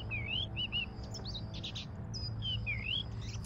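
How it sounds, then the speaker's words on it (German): Small bird in a video game chirping excitedly in quick repeated high-pitched bursts and short swooping calls, alone over a steady low background hum. "Ein bisschen aufgeregt, das kleine Vögelchen."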